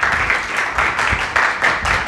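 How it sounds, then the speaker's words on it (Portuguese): An audience applauds Eduardo Vieira at a lecture, a dense, loud wash of many hands clapping, pulsing slightly in waves throughout with no one speaking over it. "Uma salva de palmas, Eduardo, por favor."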